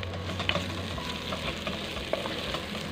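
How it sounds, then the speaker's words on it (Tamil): Green chillies sautéing with ginger garlic paste for a paneer pot biryani, a steady close sizzle and frying crackle with occasional soft stirring clinks, no talking. "அதனால நான் 5 பச்சை மிளகா சேர்த்து வதக்கிக்கலாம்."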